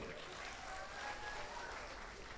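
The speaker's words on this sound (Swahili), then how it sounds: "Wapi makofi ya baby top" Applause for Baby Top at a gathering, a dense patter of clapping from a crowd that holds steady for a couple of seconds, mixed with faint voices.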